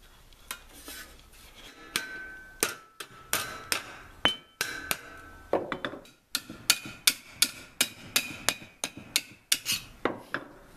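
A hammer strikes scrap metal on a worn old anvil to bend a lip and hook, ringing with repeated sharp metallic blows in a steady, fairly quick rhythm, close and loud.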